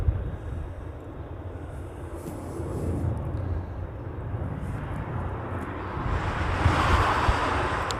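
A Delta airliner passes over the Hawaiian coast, its jet roar blending with surf and gusty wind on the microphone and swelling louder toward the end; no one speaks.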